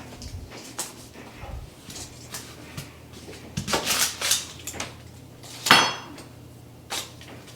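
A sharp knife cuts yellow onions into strips on a board, with irregular knocks and crisp slicing strokes at close range, some louder chops standing out.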